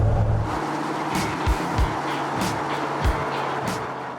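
A square-body pickup truck, revived from a junkyard, hums steadily with a low engine rumble, punctuated by several brief thumps and bursts of broadband noise as it rolls along.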